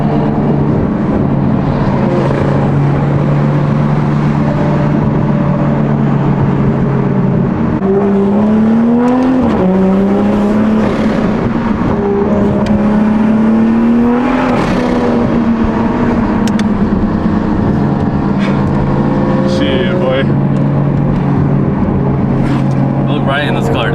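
A Subaru STI engine hums and rises in pitch, dropping and climbing again through gear changes around 3,500 rpm, with people talking over the steady cabin drone.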